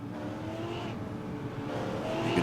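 Super Late Model race cars run at Milwaukee Mile, their steady, continuous engine drone filling the scene at moderate distance and swelling slightly louder toward the end.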